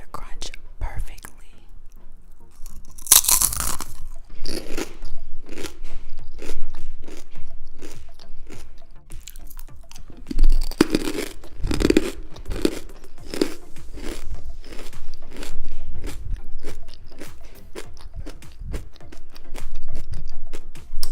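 Crunchy food bitten and chewed close to the mic, a run of sharp crisp crunches in a steady rhythm, with whispering heard between bites.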